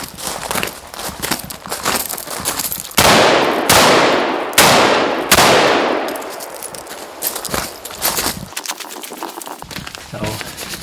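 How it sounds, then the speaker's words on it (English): An AR-style rifle fired on the move at steel targets: four loud, sharp shots in quick succession, each ringing with a metallic clang, amid outdoor handling noise and smaller impacts. "So we'll do some shooting on the move."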